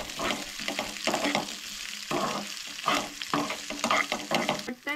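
Chopped onion, garlic, coriander and green chillies fry in a pan, sizzling loudly as a spoon stirs and scrapes through them in repeated bursts, with no talking.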